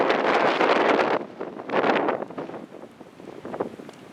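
Fast-flowing floodwater in a stream along a flooded street, a loud rushing wash in uneven surges, buffeted by wind against the microphone.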